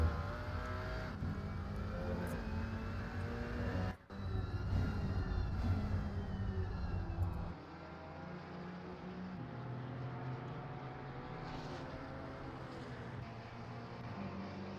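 Lamborghini and Porsche GT race cars roar past in Assetto Corsa Competizione at Watkins Glen, loud sustained engine drone that drops abruptly in pitch and level midway as a car passes by.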